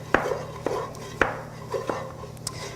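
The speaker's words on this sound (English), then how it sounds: "And so stirring this all together to make sure that the potatoes are really coated in that seasoning as well." Potatoes being stirred with seasoning in a cooking pot, a handful of sharp clinks and scrapes of a utensil against the pot spaced about half a second apart over a steady low hum, with no talking.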